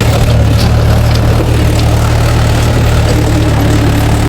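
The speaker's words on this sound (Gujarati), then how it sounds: "આગળ રોટાવેટર અહીંથી હાલ્યું જાય ને પાછળ સાહ નખાતા આવે." A tractor pulls a rotavator with changed blades through a field at night, a loud, constant low engine drone running unbroken until an abrupt cutoff.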